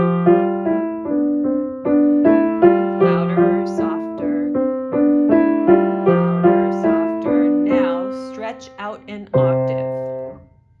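Piano exercise played as a string of detached notes in a steady rhythm, gradually growing louder in a crescendo and ending on a sustained final chord, solo and close.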